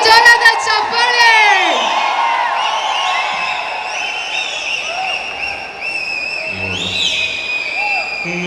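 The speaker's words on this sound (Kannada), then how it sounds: "ಬರಲಿ ಜೋರಾದ ಚಪ್ಪಾಳೆ." A stage event crowd welcoming actor Rangayana Raghu erupts in loud cheering, whoops and shouting, with clapping running beneath a sustained roar from the start.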